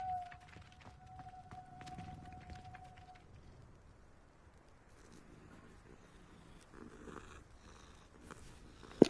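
A cat purrs softly and steadily in Hogwarts Legacy, a low continuous rumble under faint game ambience, with a brief tonal hum near the start.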